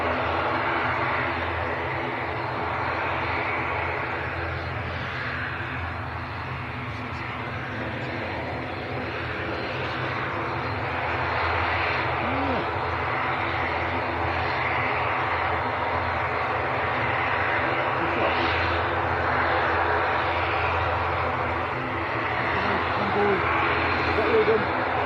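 Loganair regional airliner in Isle of Man livery at Manchester Airport, a long sustained engine drone with low tonal hum and slow swells in loudness, heard under intermittent background talk.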